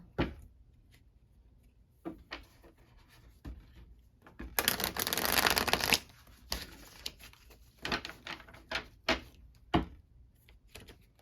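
Tarot cards being shuffled in a quiet room, a series of soft scattered taps and flicks followed by a longer dense riffle lasting about a second, with more light card handling afterward.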